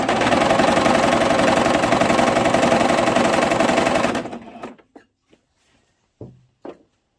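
A sewing machine stitching a child's skirt runs steadily and loudly for about four seconds, a dense mechanical whir, then stops, followed by a few soft handling clicks and taps.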